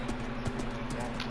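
Horse hooves clip-clop in Minecraft in a quick rhythm over a dense, steady background hum, fairly faint and short.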